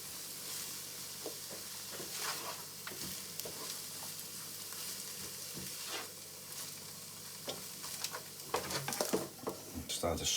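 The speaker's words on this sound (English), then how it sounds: "Alright, that is sizzling away nicely." Onion and chorizo frying on a plug-in electric hob, a steady close sizzle with occasional stirring scrapes that grow busier toward the end, no talk over it.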